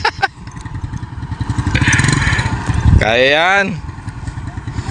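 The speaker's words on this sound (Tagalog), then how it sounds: "Katawid yung tricycle" A motor tricycle crosses a road, its engine running steadily at mid pitch with some clatter. People talk loudly over it, and a voice rises in a brief wavering cry near the middle.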